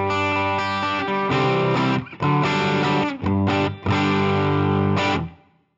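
Electric guitar played through a Fractal AX8 modeler on a Double Reverb amp model with a 2x12 cabinet, ringing full chords with slight distortion in several sustained strums, each cut off briefly before the last one fades out.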